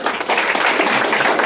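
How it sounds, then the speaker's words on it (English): A crowd at the Hamilton County State of Cancer Caucus gives a round of applause for the Hamilton County Sheriff's Office, a full, even patter of many hands clapping close by, with no voices. "Give them a kind round of applause."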